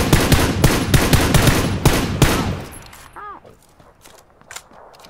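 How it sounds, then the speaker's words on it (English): Shotgun blasts in a video game boom in a rapid, loud string of close shots, then stop abruptly, leaving quieter footsteps and faint clicks. "He has a shotgun, he's shooting at you"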